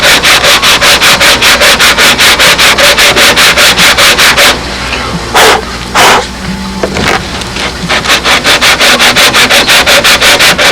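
Sandpaper on a block is rubbed over an aircraft part to shape it, loud rhythmic back-and-forth scraping strokes, a pause with a few knocks and scrapes, then steady strokes again.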